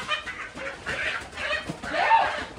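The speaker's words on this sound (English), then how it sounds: "his rooster has caught himself up in some string" A rooster tangled up in string clucks and squawks in a series of short, agitated calls, fairly close and fairly loud.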